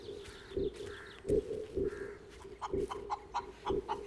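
A rooster in a Tamil film scene set in a village, calling repeatedly in short sharp bursts over a steady background tone, with several crow-like calls spaced through the scene.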